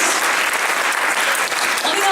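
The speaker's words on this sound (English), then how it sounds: "Give them a round of applause" Applause from an audience at a church gathering, steady dense clapping filling the whole stretch at close range, loud and even throughout.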